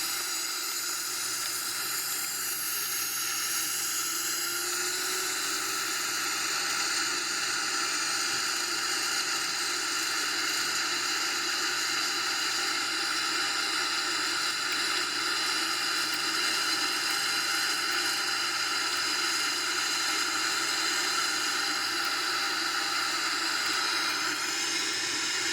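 Airbus A321 engines spooling up to takeoff thrust in a flight simulator, a steady, loud broadband roar and hiss that holds evenly throughout with a faint rising tone early on, no talking.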